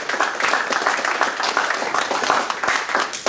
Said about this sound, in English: it's my pleasure to ask for a round of applause for your organizers